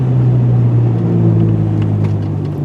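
Road and tire noise inside a moving car on new tires: a loud, steady low rumble and drone that holds evenly throughout.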